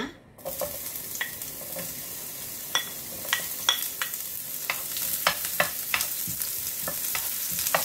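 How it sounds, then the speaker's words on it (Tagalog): Onions drop into a hot frying pan and sizzle steadily, with scattered sharp crackles and the scrape of stirring popping through a constant close hiss; no one speaks. "Mainit na yung ating kawali at pwede na nating ilagay yung ating sibuyas muna."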